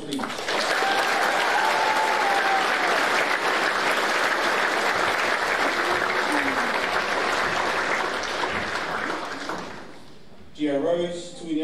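Audience applause at a secondary school senior prizegiving, long and sustained clapping from a large crowd that tapers off before a voice speaks at the end.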